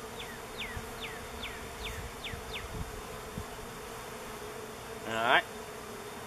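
Honeybees buzzing around a nuc hive during an inspection, a faint continuous hum with soft chirp-like sweeps and a closer burst of buzzing near the end; a brief spoken word is heard.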